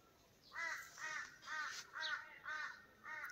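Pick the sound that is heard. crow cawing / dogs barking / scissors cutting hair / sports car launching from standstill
crow cawing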